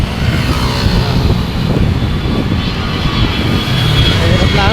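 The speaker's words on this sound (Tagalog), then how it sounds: "Aeroplano." An airplane passes overhead near the LTO office in Pasay, a loud broad engine roar over street noise, with a voice speaking briefly beneath it.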